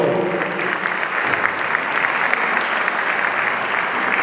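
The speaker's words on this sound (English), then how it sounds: "let's give him a round of applause for our Attorney General, Omar." Sustained audience applause at a DuSable Heritage Association heritage gala, honoring the Attorney General; dense, steady clapping from a large crowd filling the room for several seconds without pause.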